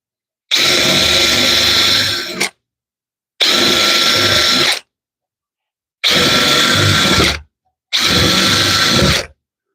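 A power drill bores out screw holes through plywood on a firepit bench, running in four loud close bursts of about two seconds each with silent gaps between them.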